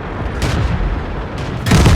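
Tank guns fire during a Steppes battle in World of Tanks, giving heavy booming blasts: one near the half-second mark and a louder, deeper shot close to the end, with rumbling between them and no speech.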